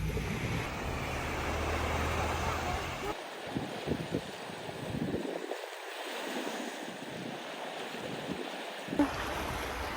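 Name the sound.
sunset swim in the sea at Naxos, waves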